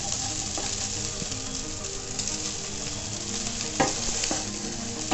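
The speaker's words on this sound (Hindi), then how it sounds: "अब इसको फिर अच्छी तरह से मिक्स कर देंगे। इस तरह से हमें चलाना है ऐसे" Hakka noodles sizzle and fry in a pan while being stirred and tossed, a steady crackle broken by a few sharp scrapes and clacks, with no talk.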